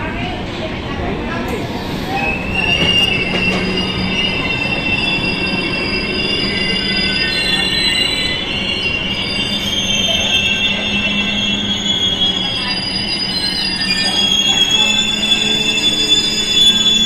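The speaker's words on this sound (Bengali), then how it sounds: "সেটা সেকেন্ডবারের মতন আবার থামবে, তারপরে সাইরাং এক্সপ্রেস ছেড়ে যাবে।" Kolkata–Sairang Express pulling out of Berhampur Court station, with continuous loud rolling rumble and high metallic wheel squeal throughout, station background noise beneath.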